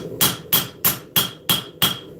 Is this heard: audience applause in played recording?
no